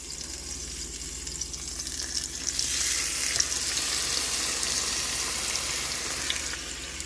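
Birria tacos fry in a pan with a steady close sizzle that swells and brightens midway as they settle into the hot oil, continuous and with no voices.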